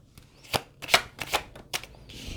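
Tarot cards are shuffled and drawn from a deck. Several quick papery riffles and snaps come up close in uneven bursts, with no talking.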